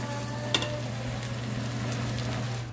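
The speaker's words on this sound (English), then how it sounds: "So I'm going to fry tomatoes and onions now." Gentle, steady sizzling of tomatoes and onions frying in a pan, with a low hum and a brief clink near the start.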